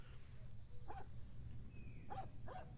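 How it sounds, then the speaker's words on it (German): A dog barks in the video game 35mm, a few faint, separate woofs in the distance over a low rumbling ambient background. "Und ich höre Hunde."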